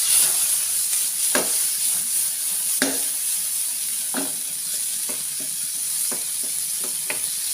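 Prawns frying in a pan with a steady close sizzle, broken by a series of sharp scraping stirs of a spatula against the pan, no voices present.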